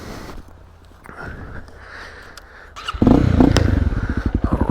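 A Honda CRF250L dual-sport motorcycle sets off for a ride: quiet idle and clatter at first, then a louder engine rev and pull-away from about the three-second mark, close and steady with rising throttle pulses.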